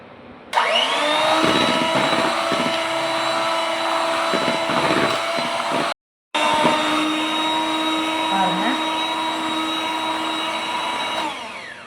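An electric hand mixer whirs steadily as it beats lemon cake batter mixed with buttermilk and lemon juice, a loud continuous motor drone that cuts out briefly near the middle and then resumes.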